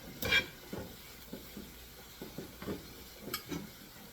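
Oyster mushrooms fry in a pan on high heat with a soft, steady sizzle, broken by light stirring scrapes and a few utensil clinks on the pan, with no talking.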